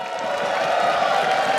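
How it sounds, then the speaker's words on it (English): Arena crowd at a League of Legends All-Star event cheering and applauding, a dense steady roar of voices and clapping close and loud throughout. "Let's hear it one more time for Dash and Caster June for pumping up the crowd"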